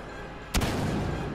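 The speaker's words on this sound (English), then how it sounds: "And here we go, heavy blaster." A heavy blaster fires once in a video game, a single sharp loud blast followed by a rumbling tail over steady background noise.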